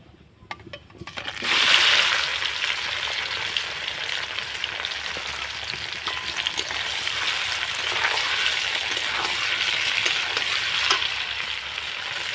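Amla (Indian gooseberries) drop into spice-tempered oil in a pan, and after a brief quiet start a loud, steady crackling sizzle takes over, with occasional stirring scrapes and no talking.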